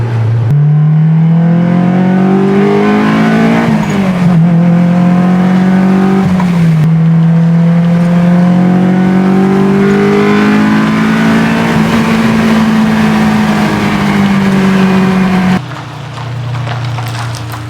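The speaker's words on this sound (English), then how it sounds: "So let's go drive the S2K a little bit." Honda S2000 roadster with hardtop driven hard, its engine revving up through the gears in long rising sweeps with brief drops at each shift, loud and close throughout.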